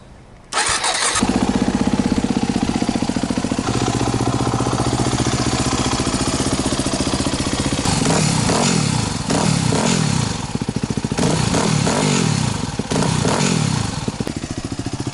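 A modified Yamaha WR250R motorcycle engine cranks and fires up loudly after a short quiet moment, settles into a rough close idle, then blips through several revs, with no talk over it.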